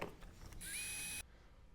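Power drill boring into the front bumper of an Audi RS3 8V during a front lip install: a brief, high whining burst of about half a second that cuts off abruptly, after faint handling clicks.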